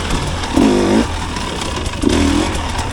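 A 2024 KTM 300XC-W two-stroke dirt bike engine blips up twice in quick succession, loud and close, each rev rising sharply then dropping back to a rough idle between.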